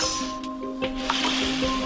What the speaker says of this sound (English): Okay, I'll make a wave. You can hear the water.